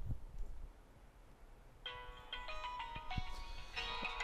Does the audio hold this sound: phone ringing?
yes